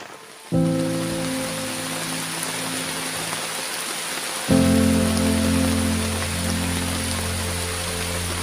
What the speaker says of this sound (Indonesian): Makin larut, hujan makin tak terbendung.